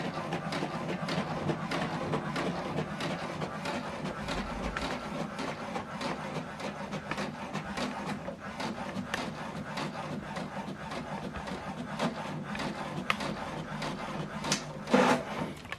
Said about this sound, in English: So the second one is printing.